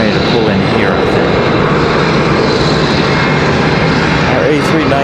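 An Airbus A321 jet pulling in at Charlotte Douglas airport gives a loud, steady, broadband engine roar that holds unbroken for several seconds, close by.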